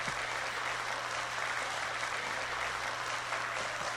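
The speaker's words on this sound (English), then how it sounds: "I exit the stage while applause is still ongoing" Steady applause from an audience in a video game, an even wash of clapping that continues without a break, over a low constant hum.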